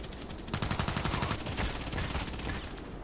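Gunfire in Contract Wars, where a pump shotgun is in play, comes as a fast, dense barrage of overlapping shots that stays loud and steady for about three seconds, with no one talking.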